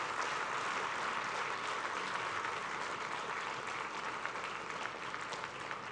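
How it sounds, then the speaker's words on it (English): Sustained applause from a large crowd, steady and loud throughout with dense, even clapping and no pauses. "one round of loud applause for your parents"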